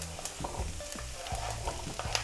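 Diced zucchini and golden onion fry together in a pan, a close, steady sizzle broken by scraping stirs and small clacks of a utensil, with no talk.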